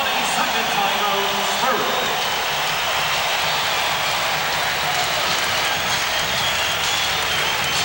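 Steady broadband roar of a basketball arena crowd cheering during a 1992 NBA playoff game between the Suns and Spurs, loud and sustained throughout with a faint announcer voice underneath.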